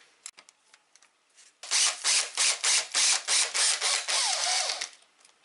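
A keyless drill chuck is twisted loose to swap the bit, first with a few light clicks, then a close run of rapid ratcheting bursts in an even rhythm ending in a continuous grinding whir.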